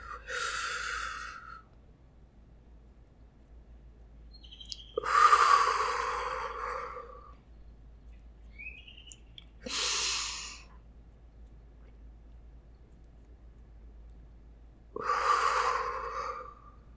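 Slow, deep breaths during a breathing exercise come as four separate airy inhales and exhales several seconds apart, close and quiet against a silent background.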